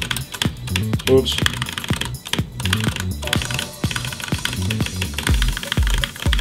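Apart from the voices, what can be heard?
computer mouse clicking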